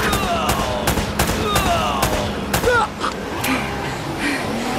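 Gunfire in a shootout in the action video game Uncharted: Drake's Fortune, a rapid burst of sharp repeated shots followed by scattered single cracks, mixed with brief in-game voices.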